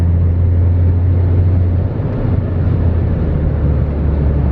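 VW Golf GTI with a downpipe fitted, its exhaust droning loud and steady from inside the car through a downshift, with a low rumbling burble and a brief dip near the middle.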